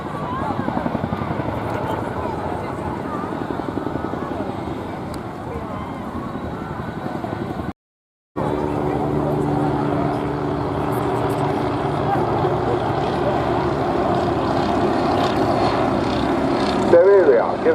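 A twin-engine Chinook helicopter climbs under heavy power, its loud throbbing rotor and turbine roar filling the air. A brief dropout comes midway, then the roar returns, with a voice faintly audible beneath.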